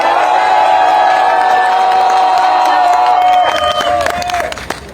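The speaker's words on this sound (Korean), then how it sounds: "큰 박수 부탁드립니다" Audience at an outdoor student rally opposing an impeachment claps and cheers for several seconds after a speaker finishes, a dense sustained crowd sound with some whoops, thinning toward the end.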